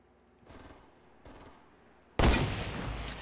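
A sniper rifle shot rings out in Fortnite: after two faint muffled thumps, one loud, sharp report bursts in and trails off with a long rumbling echo.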